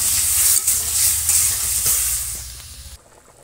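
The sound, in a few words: water poured into frying spices in a pan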